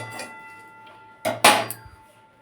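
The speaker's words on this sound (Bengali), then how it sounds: "একেবারে সিমে রেখে মশলাটাকে নাড়াচাড়া করে নিলাম।" A spoon scrapes and clinks against a pan while gooseberry spice mix is stirred over a low flame, a couple of sharp metallic knocks after a quiet stretch.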